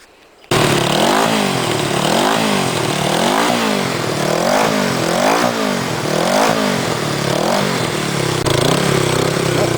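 A 33-year-old motorcycle engine starts abruptly and revs repeatedly, loud and close, rising and falling in a steady wave of throttle blips that continues for several seconds.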